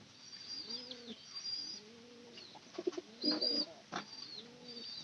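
A caged pigeon coos repeatedly in close, clear phrases, with a few sharper chirps and calls from other birds nearby in a quiet setting.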